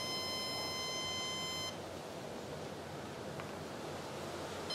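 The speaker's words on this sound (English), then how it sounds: "So now it'll beep just one time continuously." A steady electronic tone from HyperLOC 835 model rocket electronics just switched on, one continuous beep that cuts off after about a second and a half, leaving faint background hiss.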